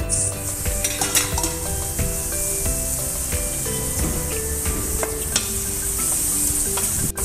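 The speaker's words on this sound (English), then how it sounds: "Fry the onion until light brown color" Onion frying until light brown in a pan while making millet pulao, a loud close sizzle with frequent stirring scrapes and clatter against the cookware, continuous and unaccompanied by talk.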